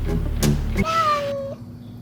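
A rescued kitten gives one clear meow, a short rising-then-falling cry heard close, following a brief burst of louder rustling noise at the start.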